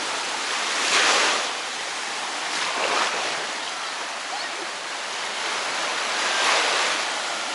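Surf at Clearwater Beach, Florida, in January: a continuous loud wash of breaking waves swelling and easing every couple of seconds, with no voices.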